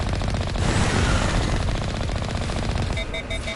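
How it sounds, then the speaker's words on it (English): Sustained rapid automatic gunfire from enemies in the video game Mass Effect, a dense loud rattle of shots that thins out near the end, with no talking. "It's shooting at us."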